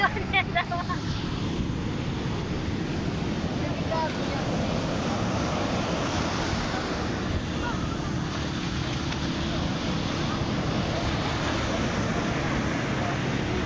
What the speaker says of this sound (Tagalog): Pagdating ng alon, lulundag ka.